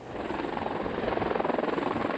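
Helicopters fighting a wildfire near Lytton, British Columbia, with rapid rhythmic rotor thumping that grows steadily louder, heard at moderate distance without talk.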